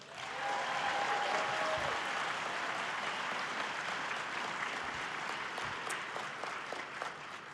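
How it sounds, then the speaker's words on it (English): An evening audience applauds a ballet performance, a full, even roar of clapping that swells quickly and stays steady, a faint tone briefly audible early on, with no speech. "let's do another round of applause for the ballet"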